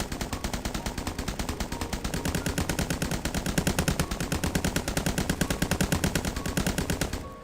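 Automatic gunfire from guns being built for an in-development video game, a long rapid stream of evenly spaced shots rattling on steadily for several seconds, loud and close.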